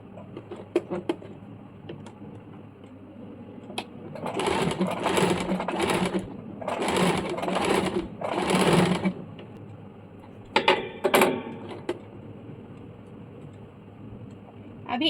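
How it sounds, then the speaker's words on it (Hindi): A sewing machine stitches a beginner's baby umbrella frock, running a seam down the middle and along both sides. The motor whirs loudly in three long bursts, with a few quick short bursts after and light ticking and handling noises between. "अभी इस प्रकार से ये बीच से लेके दोनों साइड सिलाई चला लेंगे ताकि ये आगे पीछे ना हो जाए।"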